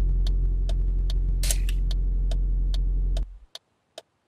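A car engine in the My Garage game drones at a steady low idle, then cuts off abruptly near the end. Sharp periodic ticks repeat throughout and carry on briefly after the engine stops.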